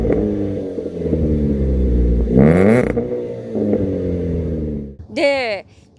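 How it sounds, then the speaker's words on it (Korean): A tuned, discontinued Chevrolet Aveo 1.6 with an aftermarket cannon exhaust and a mid-pipe and end-muffler setup idles with a deep, close burble, then snaps through two sharp, loud rev blips separated by a few seconds. "이쯤에서 이 차 배기음도 공개할게요."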